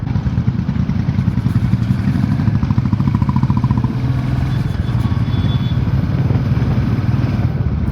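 A Royal Enfield Bullet motorcycle engine thumps steadily nearby with a deep, rhythmic, pulsing beat and mechanical clatter, loud and continuous throughout.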